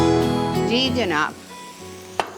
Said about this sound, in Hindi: उसमें मैंने आपकी मैरिनेट की हुई जो चिकन सीना था छोटा चॉप किया हुआ, वो मैंने डाल के